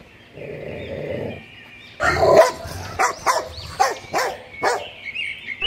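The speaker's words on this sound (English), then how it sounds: "D for dog." A dog barks in a series of sharp, close, loud barks, irregularly spaced after a brief growl-like rumble, with no talk over it.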